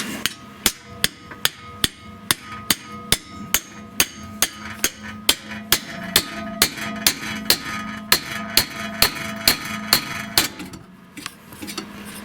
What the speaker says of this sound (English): let's get it with a pickle fork